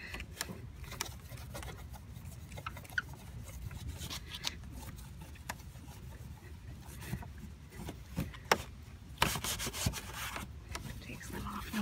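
A Norwex cloth scrubs dead bugs off a car's front grill, with steady close rubbing and scraping strokes and occasional louder scuffs and clicks near the end.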